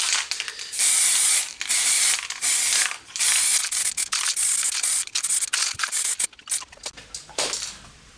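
High-temperature spray paint hissing onto a car's exhaust manifold in a garage, loud close bursts of spray broken by short pauses, no talking.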